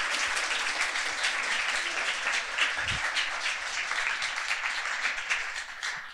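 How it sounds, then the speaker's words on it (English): A conference audience at a student finance panel in Zagreb claps steadily, a dense sustained round of applause that holds at full strength for several seconds before easing slightly. "Big round of applause."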